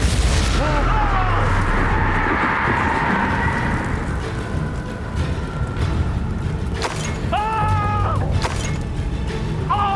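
Bombarda and Confringo spell explosions in Hogwarts Legacy go off as a series of loud booming bursts amid dense magical effects and game clamour, with voices calling out over the blasts.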